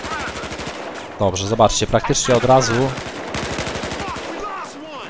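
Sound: video game gunfire

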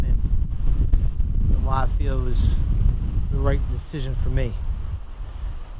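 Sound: wind blowing into the microphone outdoors

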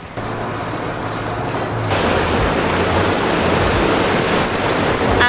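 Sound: boat cruising through waves on the Beagle Channel

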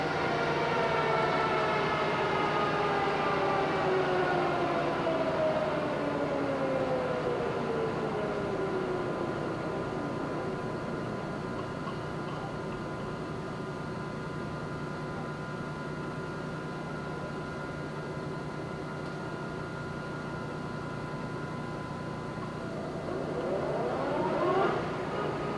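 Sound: Poreba TPK90Ax2M engine lathe running at 315 RPM

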